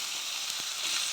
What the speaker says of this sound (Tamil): கேப்சிகம் போடுவோம்.